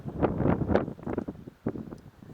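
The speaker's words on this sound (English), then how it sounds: "Windy and cold." Gusty, cold wind on a mountain peak buffets the microphone in low, rumbling bursts that rise and fall, with no voices.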